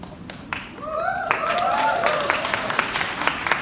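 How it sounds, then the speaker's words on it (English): Concert audience applause at a performance, steady clapping with a few cheers rising after a brief spoken introduction, moderately loud and continuous through the end. "You haven't heard it yet, you don't have to clap."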